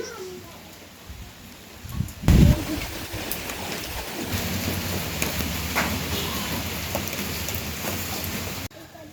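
Steady rain falls with a constant hiss after a brief knock and thump near the start while leafy greens are picked outdoors; faint voices are barely present.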